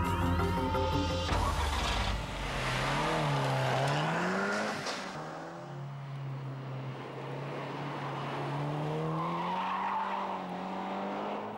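KTM X-Bow sports car with Audi's 240 bhp 2.0 TFSI turbo four-cylinder driving hard, a loud engine note rising and falling through gear changes and revs, with a brief skid or tire squeal near the start.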